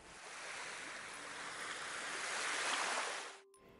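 Ocean waves roll in a continuous broad rushing wash that swells gradually, grows loudest near the end, then cuts off abruptly.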